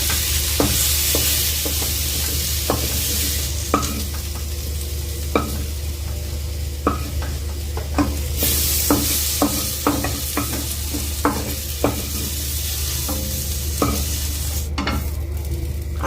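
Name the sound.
pointed gourd and potatoes frying in a kadai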